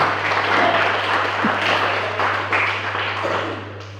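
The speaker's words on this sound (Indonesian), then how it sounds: "Berikan tepuk tangan dulu" A church congregation gives sustained applause for pastors of the Indonesian pastors' association, a dense even patter over a constant low electrical hum, fading slightly toward the end.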